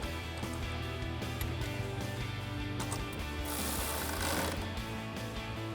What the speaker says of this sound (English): And then we'll grab our 10mm socket to tighten these down